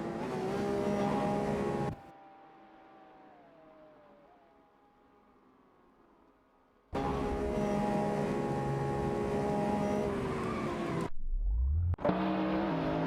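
Race cars in a video game, among them a Maserati MC12 and a Bertone Mantide, roar loudly at high revs, drop out into a quiet stretch, then blare back, with a brief gap and a sudden rumble near the end.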